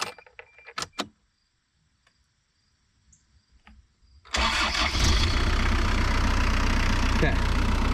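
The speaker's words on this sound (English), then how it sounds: "I'm going to start the car, let it run for a little bit" An Isuzu Elf truck engine cranks and catches after a few quiet clicks and thumps, then settles into a loud, steady idle that continues to the end.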